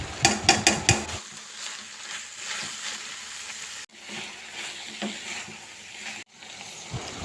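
Mangalorean-style ivy gourd stir-fry with freshly added grated coconut sizzles steadily in a pan, opening with a few sharp clanks of a spoon against the pan before a soft, continuous frying hiss.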